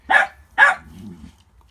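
Two sharp, close dog barks in quick succession, followed by a low grumbling growl.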